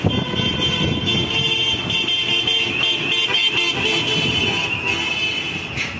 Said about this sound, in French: Là, ils klaxonnent, ils sont contents.